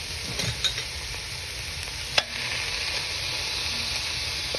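Onion and vegetables fry in oil in a pan, giving a steady close sizzle and hiss with a few soft stirring scrapes and a brief clack near the middle.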